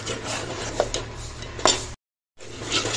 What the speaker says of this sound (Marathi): वाटण टाकून झालेलं आहे, हे त्याला चांगलं तेल सुटेपर्यंत आपण परतून घेऊया